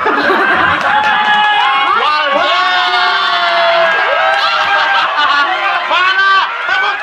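A studio audience at an Indonesian TV romance show's 500th episode cheers and shouts loudly, high excited voices and whoops rising and falling over a busy crowd roar throughout.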